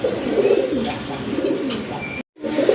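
Pigeons coo nearby in soft, repeated low calls, with a short silent break near the end before the cooing resumes.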